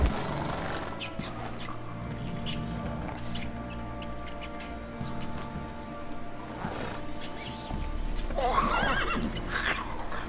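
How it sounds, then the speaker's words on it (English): A horse in the video game The Witcher 3 whinnies sharply while hooves clip-clop over a low in-game ambience, the neigh rising near the end. "The horse is going to get crazy and stamp on him."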